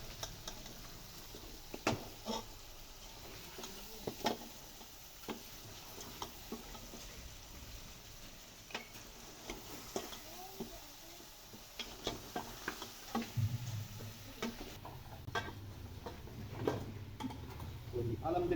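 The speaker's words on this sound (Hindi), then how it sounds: "अभी पायों को अच्छी तरह से भूनेंगे हम" Beef trotters sizzling and frying in a pot, a steady soft crackle with scattered ticks and stirring clatters, fairly quiet and close, with a voice talking over it at times.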